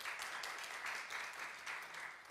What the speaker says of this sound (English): Clap if you got gold, for real.